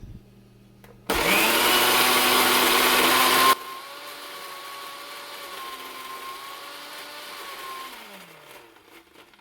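A kitchen mixer whirs loudly for about two seconds while blending mayonnaise from oil, then cuts off abruptly, leaving a quieter hum behind.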